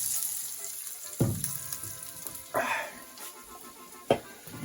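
Garlic cloves fry in hot oil with a soft, steady sizzle, broken by a few sharp clatters and scrapes of stirring, close and fairly quiet with no talking.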